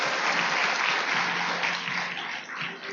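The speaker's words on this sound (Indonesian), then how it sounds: "Beri aplaus yang sangat luar biasa buat beliau." Sustained applause from a large indoor audience, dense and even clapping held steady for several seconds before easing slightly at the end.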